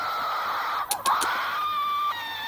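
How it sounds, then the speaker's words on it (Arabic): A loud, piercing scream in the Slendytubbies multiplayer horror game, a harsh burst of short shrieks followed by a sustained high-pitched wail, over a steady game drone. "صريخ عالي"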